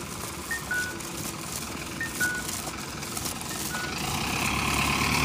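Traffic on a snowy road: a steady rumble of vehicles passing nearby, with truck engine noise and faint beeps. No one talks.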